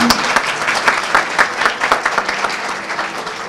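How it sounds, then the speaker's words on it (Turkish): An audience applauds at an event, producing loud, close, continuous clapping with many crisp individual claps and a slightly uneven rhythm that fades a little toward the end. "Bir alkış daha rica ediyorum."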